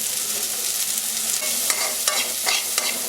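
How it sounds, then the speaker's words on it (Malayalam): Green chili and ginger sautéing with salt on a low flame for a breadfruit curry, a continuous soft sizzle with several sharp scrapes of a stirring spoon against the pan. "ലോ ഫ്ലെയിമിൽ 2-3 മിനിറ്റ് ഒന്ന് വഴറ്റിയെടുക്കുക"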